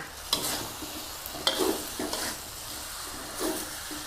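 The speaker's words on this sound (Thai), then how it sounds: "ผัดให้ใบกระเพราสุกเลยจ้า" Glass noodles, canned fish and holy basil are stir-fried in a pan, with a soft sizzle and repeated scraping stirring strokes. There is no talking.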